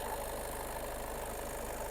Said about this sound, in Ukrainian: Гарненько двигун працює